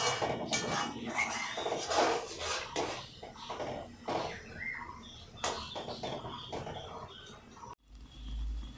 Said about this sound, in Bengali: এরপরে আমি নাড়াচাড়া করে খুব সুন্দর করে মিশিয়ে নেব।